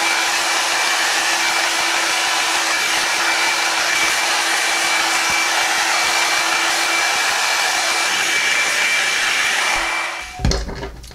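Revlon One Step hot air brush running, a steady close whooshing blower hum with a faint tonal whine, held evenly for about ten seconds before being switched off with a brief clunk.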